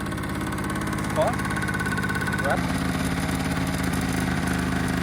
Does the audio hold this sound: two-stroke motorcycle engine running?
yes